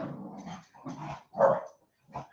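A pet dog barks and growls at home in several short, close bursts with brief pauses between them, the middle bark loudest, with no talking.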